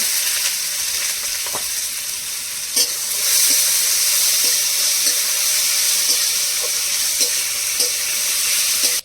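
Potatoes frying in hot oil for aloo posto give a steady, loud sizzle, with a few brief clinks of a utensil stirring the pan.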